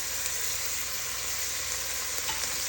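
Onions fry in oil with mustard seeds and fennel seeds for a chicken roll filling, a dense, continuous close sizzle that holds steady throughout with no voices.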